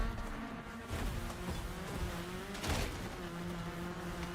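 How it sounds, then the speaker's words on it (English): Race car engines in a racing game, a thin insect-like buzzing drone with shifting pitch from several cars, steady and moderately loud, with no talking. "why do all of these cars sound like they've got a bee trap in the bonnet?"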